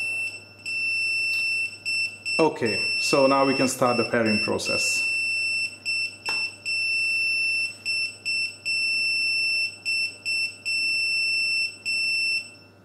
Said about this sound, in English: we should see the unit beeping 3 times